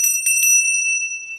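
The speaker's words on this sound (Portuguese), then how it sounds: "algumas igrejas também passaram a tocar o sino para marcar as horas" A bell rung for the hours gives three quick, bright strikes in close succession, then a clear ringing tone that lingers and slowly fades.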